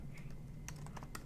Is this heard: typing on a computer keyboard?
yes